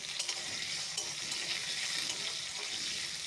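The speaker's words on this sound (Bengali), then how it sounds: "এরপর আলু কাঁচা লঙ্কাকে কিছুটা নেড়ে চেড়ে এরকমভাবেই হালকা করে ভেজে নিতে হবে।" Potatoes and slit green chillies fry in a wok, giving a steady, bright, hissing sizzle that stays even throughout and is fairly quiet.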